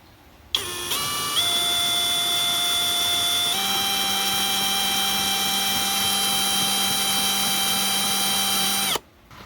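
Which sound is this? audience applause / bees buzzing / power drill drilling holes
power drill drilling holes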